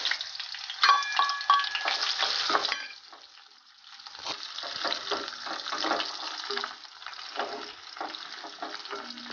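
Crushed garlic dropped into hot oil already holding mustard seeds and curry leaves, a loud burst of sizzling that fades, then steady crackling with stirring scrapes.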